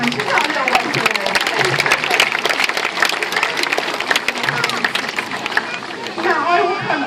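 Loud, sustained crowd applause at a sea lion show in a safari park, dense clapping throughout with chatter and a presenter speaking over it near the end.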